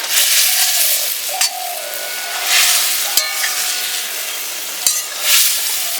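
Small fish cooking on top of telakucha greens in a pan, with a loud, continuous sizzle that swells and fades as the food is stirred, broken by a few sharp utensil taps.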